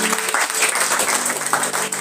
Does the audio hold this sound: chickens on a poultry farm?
no